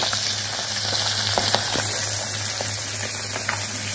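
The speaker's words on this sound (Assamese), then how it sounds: "মই এই নিমখ হালধি সানি থোৱা ভাঙুন মাছখিনি ফ্ৰাই কৰি লম।" Bhangon fish coated in salt and turmeric frying in hot oil, a steady close sizzle with scattered pops and crackles throughout, no voices.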